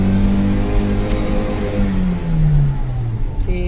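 A Toyota Innova petrol engine revs steadily in third gear during a road test, a sustained loud drone whose pitch slowly falls and rises again as the engine works through the rev range.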